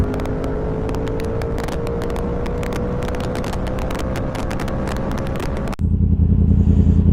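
Motorcycle engine and exhaust roar steadily while riding, recorded through a helmet-mounted microphone with wind noise, loud and continuous, with a sudden shift in tone near the end.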